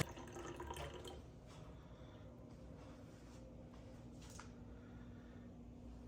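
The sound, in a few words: water rinsing dry-brined salmon fillet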